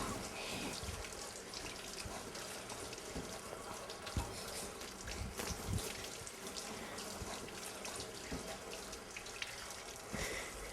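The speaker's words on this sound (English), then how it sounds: "I'm going to wash my hands." Tap water runs steadily into a kitchen sink while hands are washed during pasta making with kids, a constant soft splashing stream with small irregular drips and slaps, heard close and alone.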